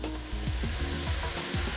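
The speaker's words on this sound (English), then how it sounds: "Hear them starting to sizzle" Freshly chopped mushrooms sizzle in a pan with a little lemon juice and very little fat, a steady close frying hiss broken by several scraping stirs of a utensil.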